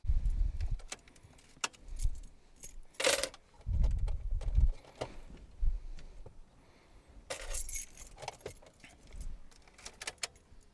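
Car keys jangle and clink near the ignition as they are turned off, bright metallic rattles in scattered bursts among low bumps and handling knocks, with no talking.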